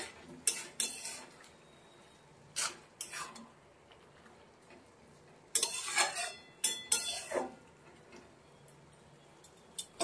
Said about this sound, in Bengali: এবার এর মধ্যে দিয়ে ভালো করে একটু মিশিয়ে দেবো